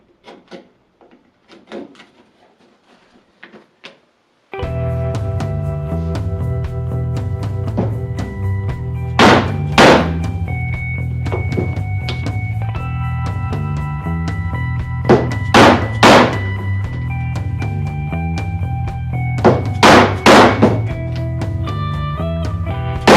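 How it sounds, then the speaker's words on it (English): Holes punched in a leather belt, a few sharp loud impact thuds and clacks standing out over a steady background hum, with softer handling knocks at the start. "punched a hole where I wanted it to actually be, and then punched 2 holes on either side for future expansion"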